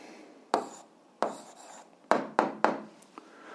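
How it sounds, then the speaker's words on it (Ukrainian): Hand writing an algebra answer: a handful of short, close scratchy strokes of pen or chalk, spaced irregularly with brief pauses between them. "записуємо відповідь, пишемо відповідь"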